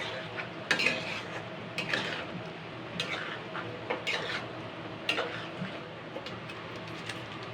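Jackfruit, lentils and an omelette mixture being sautéed and stirred in a pan, with a spatula scraping and clinking against the metal in a steady rhythm over a soft, continuous sizzle, close by and moderately quiet.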